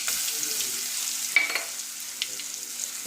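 Onion and a garlic, ginger, coriander and coconut paste are stirred and sautéed with mustard seeds and cumin in hot oil, making a soft steady sizzle with a few light spoon scrapes and clinks.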